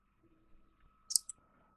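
Two quick, crisp computer mouse clicks, close and clear, in a quiet room.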